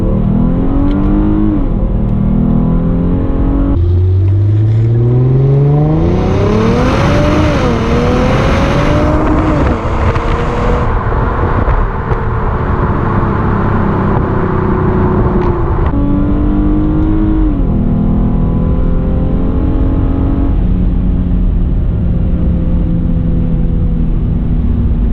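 A 2016 Hyundai Genesis Coupe 3.8 Ultimate accelerating hard, its engine loud and close from inside the car, revving up through rising pitch sweeps with gear changes and long sustained pulls, continuous throughout with no talking.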